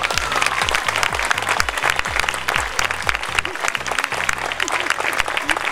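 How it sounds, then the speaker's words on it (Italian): A crowd applauds the children at a Sicily Academy dance recital. The clapping is loud and dense and continues without a break. "vi vogliamo fare un applauso"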